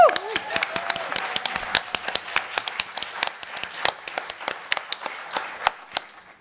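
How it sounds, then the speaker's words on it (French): A live crowd claps in a dense, steady patter of sharp hand claps throughout, fairly close and lively, with a brief voice at the very start. "Donc on l'applaudit"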